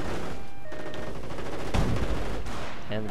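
Rifle squads trading fire in a Company of Heroes style WWII strategy game battle with Panzer Elite armor: dense, continuous crackling gunfire with rapid bursts, loud and unbroken, alone.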